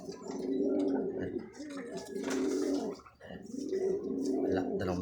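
A racing pigeon near its nest gives repeated low, throaty coos in rolling phrases, close and clear, with brief pauses between calls and faint background noise.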